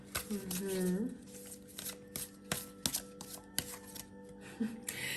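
Tarot cards being shuffled up close, with a run of sharp slaps and riffling flicks scattered across the clip, over a faint steady background hum. A brief voiced sound comes early, and no clear speech follows.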